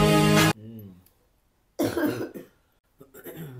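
A person coughs deliberately as part of a phone prank among family, several harsh bursts: one strong opening cough, then a louder cluster of rough coughs a moment later and a shorter final burst, close to the mic with pauses between.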